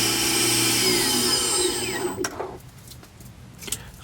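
A lathe-driven M6 tapping drill bores a hole about 10 mm deep on a Myford Super 7, the steady whine and grind of the cut ringing loud and close before the machine quiets and a few faint knocks follow.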